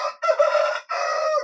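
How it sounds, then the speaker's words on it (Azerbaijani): A rooster crows close by at a rural house yard with gardens, one loud, drawn-out call broken into a few strained segments, with no talk. "banladı xoruzumuzda"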